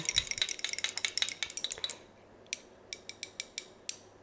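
Essential oil and Soluble being stirred together with a utensil against a container, a quick run of rapid clicking scrapes followed by a pause and then slower, spaced taps, close and with no voices.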